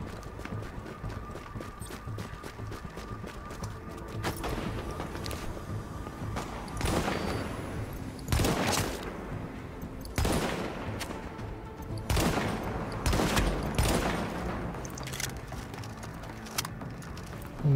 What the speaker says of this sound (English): They're shooting everyone in sight!